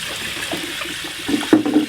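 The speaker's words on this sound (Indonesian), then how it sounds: "Ini air mengalir ya Pak ya?" Water runs from a tap while kedondong fruit are washed one by one, a steady close splashing stream with brief louder gushes near the end.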